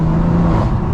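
A 560bhp BMW M3 engine drones loudly and steadily from inside the car during a short upshift, a low rumble holding for about a second with no talking.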